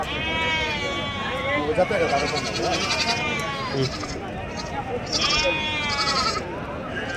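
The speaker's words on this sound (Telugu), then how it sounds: "చాలా ఉన్నాయి మేకలు ఈడ" Goats at a busy Saturday goat market bleat repeatedly in wavering calls, several animals near and far, while people talk over the crowd noise.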